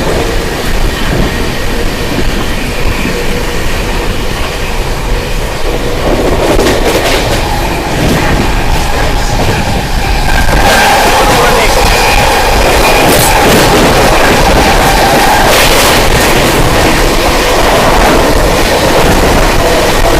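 The Shiv Ganga Express passes while overtaking, heard from a moving train as a loud, continuous roar of wheels on rails with rhythmic clatter and brief squeals, no voices.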